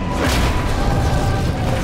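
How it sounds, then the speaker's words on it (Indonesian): An explosion in the video game Resident Evil 2 bursts out as a dense, loud, broadband blast with a low rumble that stays heavy through the short stretch. "ada yang meledak"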